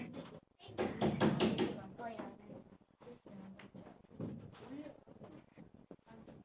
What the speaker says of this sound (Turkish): O sırada kapı çaldı.